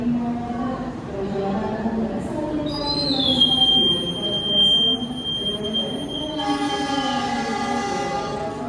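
Two Malabar passenger trains with stainless steel coaches meet and pass, a steady rumble carrying shifting horn-like tones and high whines, with a bright burst of tonal noise near the end.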